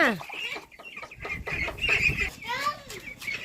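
Ducks call in quick, clucking bursts and higher squawks, fairly close, with a voice speaking intermittently over them.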